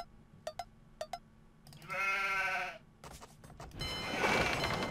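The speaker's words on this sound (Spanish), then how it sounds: "Mira, más ovejas, tío." Sheep bleat in Age of Empires II, with one drawn-out wavering bleat rising between scattered clicks and game effects, followed by a burst of other in-game noise.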